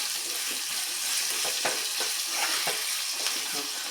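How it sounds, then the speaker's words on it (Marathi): Sugar is stirred into lemon rice (chitranna) frying in a pan, a steady close sizzle broken by scraping strokes of a spoon against the pan. "थोडीशी साखर घालायची आहे चवीसाठी मिक्स करायचं"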